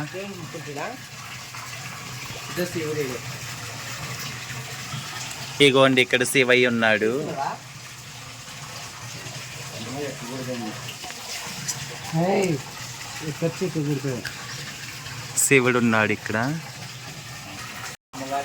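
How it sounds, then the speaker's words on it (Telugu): At a Narasimha temple shrine in Joshimath, Uttarakhand, water flows and gushes in a steady rush that continues throughout, while someone talks at intervals over it. "అమ్మవారి దగ్గర ఎంత బాగా వాటర్ వస్తున్నాయి చూసారా"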